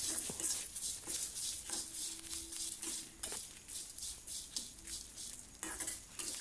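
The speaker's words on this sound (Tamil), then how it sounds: "ஒரு கைப்பிடி அளவுக்கு கருவேப்பிலை ஆட் பண்ணியிருக்கேன். அதோடைய ஈரத்தன்மை போகிற வரைக்கும் நம்ம வதக்கிக்கலாம்" A handful of curry leaves sautéing in a pan for pirandai chutney produce a soft sizzle under repeated rhythmic stirring scrapes and light clinks of a utensil against the pan.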